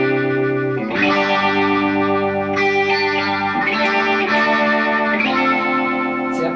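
A fOXX Foot Phaser Studio Model 7 pedal set to maximum speed sweeps fast across sustained, distorted electric guitar chords, several strummed chords ringing out in turn with a loud, swirling, chorus-like wash and no voices.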